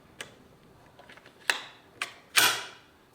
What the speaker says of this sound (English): the distance of pull when you cycle that bolt